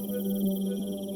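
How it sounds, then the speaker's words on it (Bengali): Crickets chirp at night around a jungle-ringed cremation ground, a steady shrill pulsing drone with no other sound. "দূর দূর থেকে শিয়ালের ডাক আর ঝিঝি পোকার আওয়াজ"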